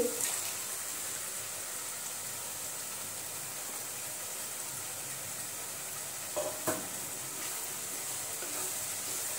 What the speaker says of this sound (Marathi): आता आपण त्यामध्ये बॉईल केलेला मटर आणि बटाटा त्यामध्ये टाकून घेऊ